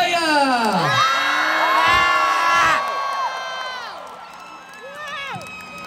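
A concert crowd at a show at Rock in Rio 2022 cheers and whoops loudly with scattered shouts, the roar easing slightly toward the end.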